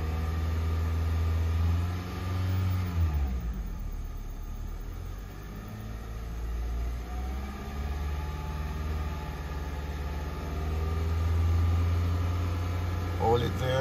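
A car engine is revved and held at higher speed during a battery test, a steady close rumbling drone whose pitch sweeps down and rises again, with faint electronic hum and no clear speech.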